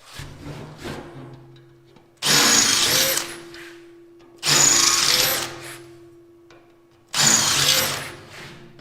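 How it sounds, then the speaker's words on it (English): A power drill bores clearance holes for bolts in a snowcat build, with three loud, close bursts of a few seconds each separated by pauses and quieter handling noise. "Now I'm just going ahead and drilling out the clearance holes for those bolts"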